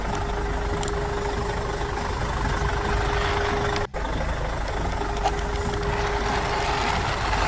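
Toy truck running, a steady continuous mechanical drone that stays level and unbroken throughout, apart from a single brief dropout near the middle.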